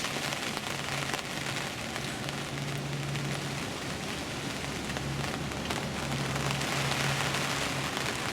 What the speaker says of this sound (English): the rain's coming down a bit heavier